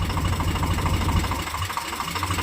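A tractor engine pulling a plough through a field chugs steadily and loudly with a knocking low-frequency rumble, close by and uninterrupted, with no talk over it.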